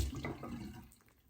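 Running tap water splashing over a razor held under the stream, a brief close wash that fades out.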